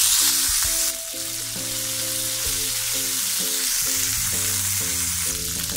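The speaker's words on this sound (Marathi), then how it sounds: "आता आपण फोडणीला देऊया" Spices and paste sizzling in a spoonful of hot oil as cumin, mustard seeds and coriander go in for tempering, a loud steady fry hiss close up, with soft music playing underneath and no talk.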